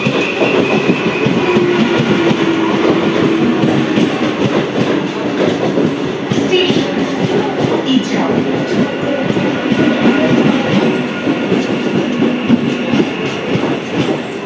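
A pink-faced NKG EMU local train passes close by near Ichhapur/Palta, a loud, continuous rumbling roar with steady clickety-clack of wheels on rail joints throughout.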